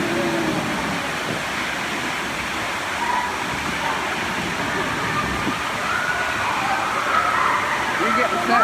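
Water pours and rushes over a waterfall on a lazy river ride at Blizzard Beach water park, a steady broadband roar filling the whole stretch, with people talking over it.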